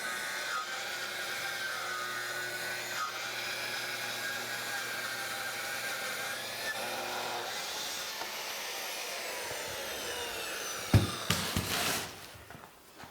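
A power tool whines steadily at close range while it cuts into a wooden desk slab, holding one tone before winding down near the end with a few sharp knocks.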